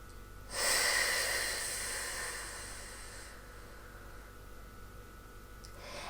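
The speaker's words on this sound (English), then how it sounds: "One more nice deep breath." A long, deep inhale during a yoga session, close and breathy, swelling quickly and then tapering into a slow, fading exhale.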